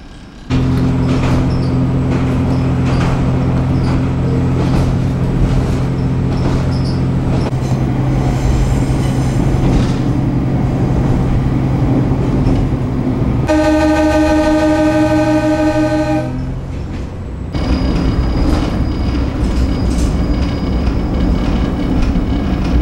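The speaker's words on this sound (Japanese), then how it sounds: "まもなく余部鉄橋、余部橋梁という山陰本線の中でも非常に有名な鉄橋を通過します。" A San'in Main Line train running steadily with loud rumbling wheels and a sustained droning tone, then a long bright horn blast in the middle before the rolling noise continues.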